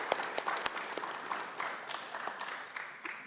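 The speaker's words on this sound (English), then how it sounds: "One more round of applause for all three of our great speakers" Applause from the audience at an international student graduation celebration, a steady wash of many hands clapping with a few sharper claps standing out, moderately loud and sustained throughout.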